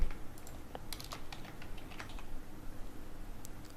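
Fingers tap out PHP code on a computer keyboard in quick, irregular bursts of clicks, close and clear, with short pauses between runs and no talking.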